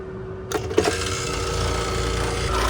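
An air conditioner condenser unit powers on with a sudden burst of noise, a couple of sharp knocks, then settles into a steady, fairly loud rattling hum that holds to the end.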